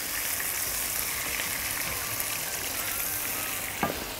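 Garlic fries in a pan with a steady, dense sizzle held at an even level, close and alone, with one small clink near the end.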